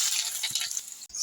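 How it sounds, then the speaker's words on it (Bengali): Onion frying in a pan in a home kitchen, a steady bright sizzle with soft stirring scrapes, moderately quiet and continuous with a brief pause near the end. "পেঁয়াজটা ভেজে নেব।"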